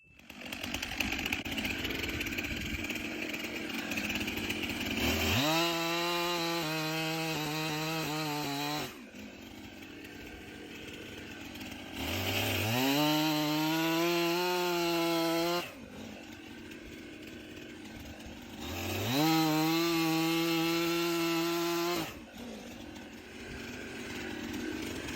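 A chainsaw roars through firewood in three long cuts, its engine pitch dropping under load, with idling between each pass.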